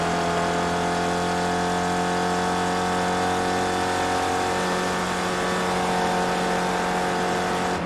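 The engine of a Ford iSpec race car in iRacing drones loud and steady as it climbs the uphill mountain straight, a constant harmonic whine with a slight pitch shift near the end and no talk over it.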